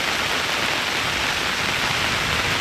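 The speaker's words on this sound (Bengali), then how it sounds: "চারিদিকে জল জমে গেছে, এত বৃষ্টি হচ্ছে।" Steady, dense hiss of heavy rain pouring down without letup, a constant wash of noise with no voices.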